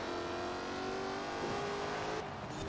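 Ford Racing Puma race car engine in Forza Horizon 4, a steady, loud high-revving drone with shifting pitch and a brief gear change, continuous throughout with no talk.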